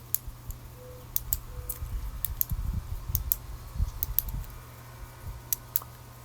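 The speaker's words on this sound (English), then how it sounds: "You can hear me clicking this. This is my fidget right now." A handheld fidget toy is clicked repeatedly, giving sharp, irregular ticks close by, with some soft handling and rustling noise in between.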